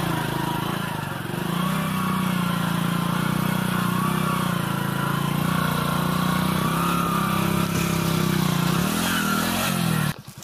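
Motorcycle engine on a rough dirt track near Rishikesh, running steadily and loudly up close with a low, even throb and slight changes in revs, ending in a short clatter.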